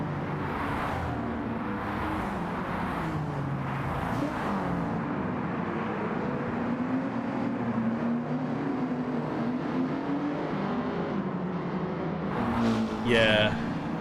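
A race car's G72 Mitsubishi engine in a video game drones steadily, its pitch rising and falling as it revs, with a faint voice briefly over it near the end.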